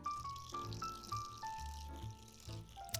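Chicken broth pours into a cooking pot in the Cooking Simulator game, a short run of synthetic liquid gurgles and drips stepping in pitch, ending with a brief sharp click.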